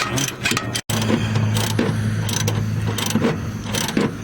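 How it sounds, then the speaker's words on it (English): A ratchet clicking rapidly and steadily while tightening strut nuts on a 1992 Pontiac Grand Prix, close and loud with a continuous metallic pawl chatter and one brief break early on. "Tighten them nuts up a little bit, and then we'll torque everything down."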